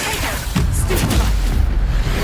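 A Stupefy spell is cast in Hogwarts Legacy, a short booming burst over dense, busy game noise with a brief voice underneath.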